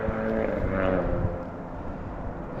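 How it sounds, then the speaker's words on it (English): A steady, loud engine drone, most likely a passing aircraft, carries over a mountain overlook above a river valley, holding strong and then easing slightly toward the end with no voices. "A loud engine."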